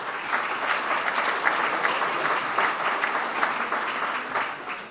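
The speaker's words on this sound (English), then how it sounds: "Let's give them a big round of applause." An audience claps for volunteers at an indoor gathering, a steady, moderately loud round of applause with no voices over it, easing slightly at the end.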